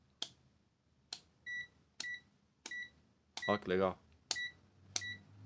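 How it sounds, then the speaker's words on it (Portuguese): Short electronic beeps from an AstroAI DT132A multimeter as its range dial is switched, one after another at irregular intervals, clear and close, with a voice speaking briefly between them. "Cada vez que você muda de posição na escala, ele dá um bip, ó."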